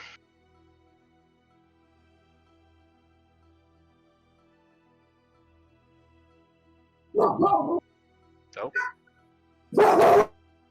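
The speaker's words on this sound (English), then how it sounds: "Abby's dog. Not my dogs this time." A dog barks three times in short, separate bursts near the end of a quiet stretch. The barks land after a long near-silent pause, and the second one is shorter and thinner than the other two.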